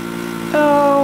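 Snowmobile engine in the Tomb Raider II remaster, Tibetan Foothills level, droning steadily before jumping to a louder, higher-pitched whine halfway through as it revs up, close and sustained with no talk.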